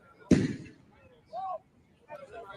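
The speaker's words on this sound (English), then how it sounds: "That was a gunshot. That's another gunshot." A single sharp gunshot bang cracks loudly at close range and decays quickly, followed by brief indistinct voices afterward.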